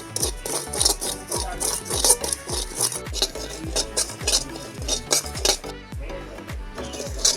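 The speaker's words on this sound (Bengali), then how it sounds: "কড়াটা গরম হয়ে গেছে আমি দিয়ে দিচ্ছি এক বাটি সুজি আমি একটু হালকা করে নেড়ে নেবো এটা" Semolina stirred in a hot wok with a metal spatula, making a steady rhythm of scraping clinks and knocks against the pan. The strokes repeat quickly and close up for the whole stretch.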